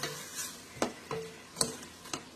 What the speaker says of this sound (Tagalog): So, pinafry natin ang ating shrimp.